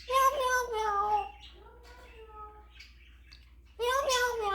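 An African grey parrot imitates a cat's meow, giving several drawn-out, rising and falling meows in a row, close and fairly loud, with a quieter stretch in the middle.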